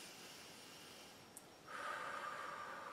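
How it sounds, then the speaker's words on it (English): A person draws in one slow, deep breath, close and soft, rising into a steady airy rush that lasts to the end, with no talk. "Breathe in."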